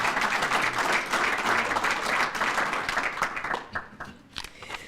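Audience applause for Do the Right Thing award winners, dense clapping from a crowd that stays strong for about four seconds before thinning into a few scattered claps.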